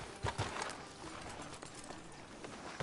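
Horse hooves clip-clop in a PS4 video game, a few close, crisp hoof strikes near the start, then a steady low background for the rest.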